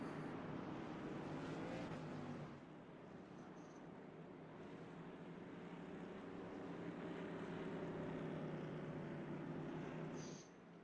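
A field of modified-series race cars in a racing video game sweeps through a turn at Concord, a faint, steady, blended engine drone that swells slightly and then drops away.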